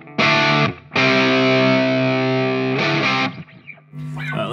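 Electric guitar driven through a Mosky Black Rat, a budget RAT-clone distortion pedal, ringing out loud sustained distorted chords in two strums with a short gap, then fading into softer notes.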